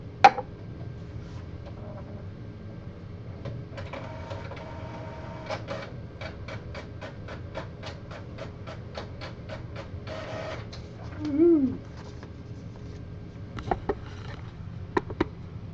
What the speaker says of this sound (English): I'm gonna try to get the printer to work.